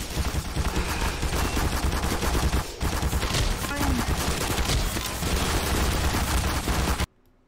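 Sentry guns in the video game Black Mesa fire sustained rapid automatic bursts, loud and dense, with a short break midway before the gunfire resumes and cuts off abruptly near the end.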